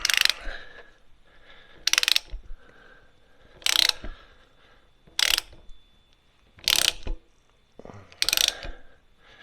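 A socket ratchet clicks in six separate close bursts, each a quick run of sharp pawl clicks, loosening the oil filter housing on a Fiat 124 Spider during an oil change, with quiet pauses between.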